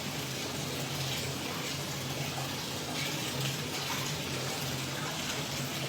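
Water pours steadily into a bathtub that is nearly full, a continuous close gushing rush from the tap with no speech over it.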